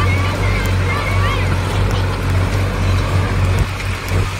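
Solis and Powertrac tractors racing side by side, their diesel engines running as a steady, loud low-pitched drone throughout, with outdoor wind and a faint voice underneath.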